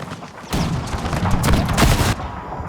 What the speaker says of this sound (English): Canister is now being delivered down the line here